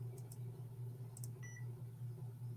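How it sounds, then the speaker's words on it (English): Short electronic beep alerts, a few brief high tones over a steady low electrical hum, fairly faint and with no talking. "I heard the beep."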